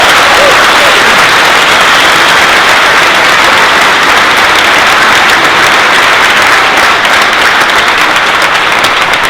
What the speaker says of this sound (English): So another big round of applause for Kell Brook.